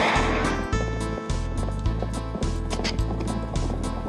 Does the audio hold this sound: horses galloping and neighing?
yes